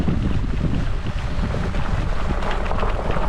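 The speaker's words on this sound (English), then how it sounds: "Wind." Wind roaring across the microphone on a chilly bikepacking trip through southern Indiana, a loud, steady rush with gusty buffeting and no voices.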